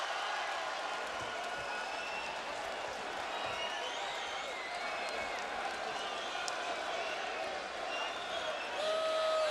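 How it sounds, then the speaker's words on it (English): Boxing arena crowd during a heavyweight fight, a distant continuous roar of cheering and applause filling the background while a commentator talks over it. "Boy, what a crowd here."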